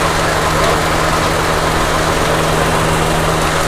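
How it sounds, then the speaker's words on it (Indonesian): Electric radiator extra fan running on a 2007 Daihatsu Xenia Li, a loud, steady whooshing drone with a low hum underneath that never changes. "Extra fan-nya berfungsi, ini hidup."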